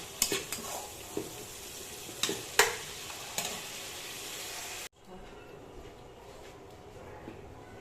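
Tomato and turmeric cook in a pan, giving a steady sizzling hiss with a few sharp clinks from stirring for about five seconds, then dropping to a quieter simmer.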